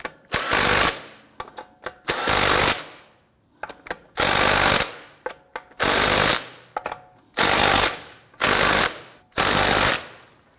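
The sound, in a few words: tightening car wheel lug nuts in a star pattern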